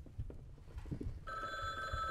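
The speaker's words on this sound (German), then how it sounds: "Ein Telefon." A telephone rings in a cooperative horror video game, its steady electronic bell cutting in partway through after quiet low shuffling and faint background sounds.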